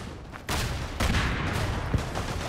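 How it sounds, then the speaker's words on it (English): Rifle gunfire in the World War I shooter Verdun, with sharp shots around the half-second and one-second marks and a brief crack near two seconds over a dense, continuous battlefield rumble, loud and close. "I just shot at one of our own dudes."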